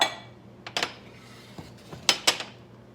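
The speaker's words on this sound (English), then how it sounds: "now that it's off the heat, I'm going to stir in my cheese" A spoon clinks and scrapes against a pot off the heat as Velveeta cheese shreds are stirred in, several sharp metallic taps in an irregular rhythm, close and clear with no talking.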